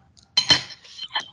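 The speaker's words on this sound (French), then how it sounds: "il y a quelqu'un qui fait du bruit," Dishes and cutlery clink near a webinar microphone in a brief burst of a few sharp metallic and glassy knocks, with faint background noise around them.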